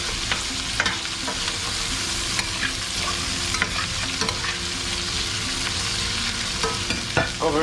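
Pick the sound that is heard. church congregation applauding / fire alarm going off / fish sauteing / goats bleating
fish sauteing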